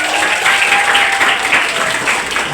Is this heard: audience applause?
yes